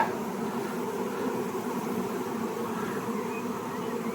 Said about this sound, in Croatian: Samo malo pčele.